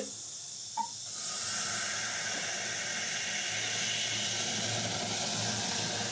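Tea poured into a heated clay matka for tandoori chai: a loud, steady steam hiss that swells in after a brief initial tap and holds strongly to the end.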